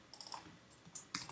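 Java code being typed on a computer keyboard: quick, quiet clusters of key clicks with short pauses between bursts, close up and alone.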